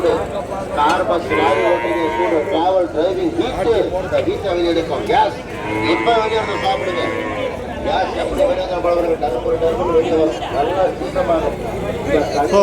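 Jersey calves call out at the Vaniyambadi cattle market: repeated bleats and moos, some close, against a steady crowd murmur, with people chattering throughout.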